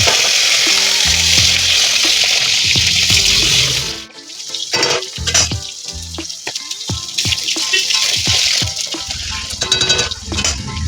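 Potatoes drop into hot oil tempered with cumin, giving a loud, steady sizzle that cuts off sharply, then a busier crackling frying with scattered clinks and pops continuing near and close throughout.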